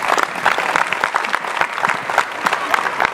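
Lively audience applause at a stage show, bursts of clapping with sharp individual claps and a few shouts mixed in, loud and close throughout.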